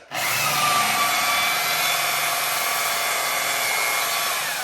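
A buffing machine polishes a surface near the edges, giving a loud, steady high-pitched whine that starts abruptly and holds at constant speed throughout, with no talking.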